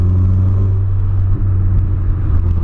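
A VW Polo fitted with a sports exhaust holds a loud, steady, deep revving drone close by, with a brief dip in the middle, and no one speaks over it.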